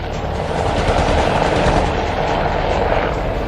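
Loud, steady rotor roar from a Light Combat Helicopter (LCH), a roughly 6-tonne Indian attack helicopter, close by and continuous throughout with a broad throbbing wash and no talk.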